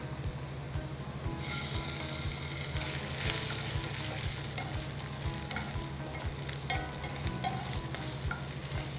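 Ginger garlic paste sizzles steadily in a hot pan, a constant crackling fry with a low rhythmic thumping beneath it.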